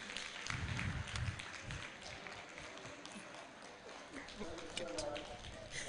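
An audience at a conference gives a round of applause: a burst of hand clapping from a crowd, fairly faint and roomy, fading out while murmuring voices carry on.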